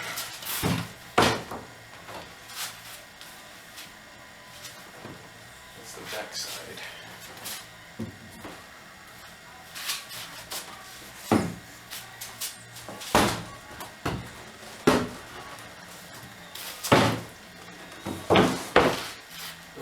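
An old hollow interior door is handled and set down, giving repeated hollow wooden knocks, bumps and thuds at irregular intervals, close by, with someone speaking between them.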